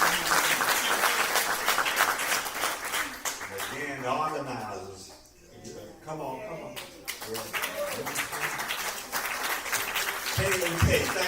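Applause at a Black History program gathering, steady clapping throughout with talk over it from a speaker, a dip in the middle before clapping resumes.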